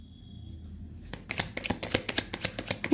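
Tarot cards are shuffled by hand in a quiet room, giving a run of quick, crisp riffling flicks that start after a brief pause and continue in a steady, close rhythm.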